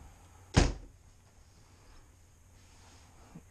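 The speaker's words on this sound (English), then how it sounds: "You gotta pull this drawer out, and it's located down there" A drawer in a 2008 Jayco Jay Flight travel trailer being pulled out gives one sharp wooden knock near the start, followed by near silence and a faint tap at the end.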